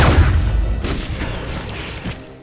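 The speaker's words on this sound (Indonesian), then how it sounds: "Michael tetap melepaskan tembakannya ke arah si ketua kartel." A loud, dense burst of low booming impacts, gunfire in an action film, fading slowly over a couple of seconds.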